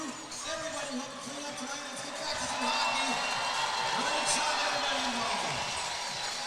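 A hockey arena crowd roars and cheers, swelling louder as a player hypes them up. The broad, sustained noise fills the rink, with a commentator's voice audible over it.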